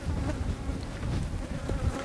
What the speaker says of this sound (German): Unglaublich, die Fliegen,